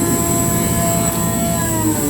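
Butler blower engine being throttled down to idle during cleaning and lubing: loud, steady, broad roaring drone with a high whine, continuous throughout the short stretch and without talk.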